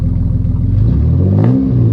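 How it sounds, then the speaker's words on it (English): A 3800 turbo Camaro with a full 3-inch exhaust given a slight rev, a deep close engine rumble that climbs briefly in pitch and settles, with no talk. "Let's give it a slight rev."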